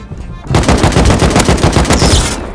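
Loud, close burst of rapid automatic gunfire from an AK rifle in the survival video game Rust, a continuous stream of shots lasting about two seconds before trailing off.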